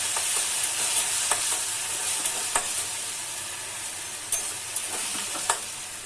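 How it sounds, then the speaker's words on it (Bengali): Tomato paste hits a pan of frying onions, ginger and green chilli for Bengali dahi bhindi, giving a steady close hiss of sizzling oil broken by a few sharp clicks of a stirring spoon against the pan. "টমেটো পেস্টটা দিয়ে দেব।"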